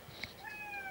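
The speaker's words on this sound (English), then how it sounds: "That's my cat." A house cat gives a brief meow near the start, followed by a fainter drawn-out mew amid quiet room noise; no talking.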